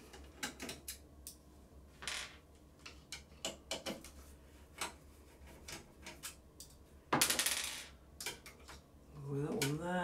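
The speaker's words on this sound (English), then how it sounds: "So we'll take those screws off at the top." Sparse small metallic clicks and ticks while screws are removed from the top of a Pantum 7105dw laser printer with a Phillips PH2 screwdriver, close and quiet, with a brief rattle near the end.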